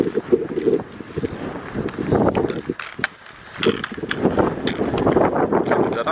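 Gusty wind on the Splügen Pass in the Alps buffets the microphone in broad roaring bursts, rising and falling across the whole stretch, loud and close with no clear voices.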